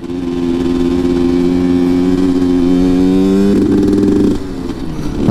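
A RIJU MRT 50 moped engine revs up and holds against the rev limiter, a loud, close buzzing drone that climbs in pitch, then stutters briefly at the limiter before dropping off.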